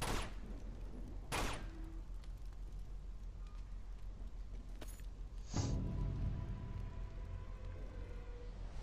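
Gunshots in Uncharted 2: Among Thieves, a few sharp, fairly loud cracks spaced apart over a low steady game ambience, the last one followed by a brief rumbling tail.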